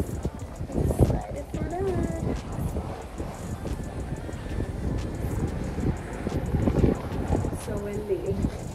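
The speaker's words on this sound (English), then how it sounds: "So windy." Strong wind buffets the microphone on a breezy tropical island outing, a steady rumbling roar with gusts throughout while people talk over it.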